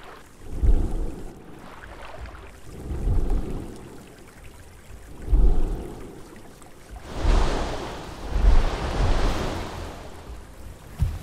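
Water and waves in an underwater survival video game featuring a giant sea creature: rolling surges of sloshing water that swell and fade in several waves, with a broader rush toward the end and no talking.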